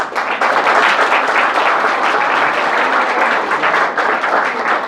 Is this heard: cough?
no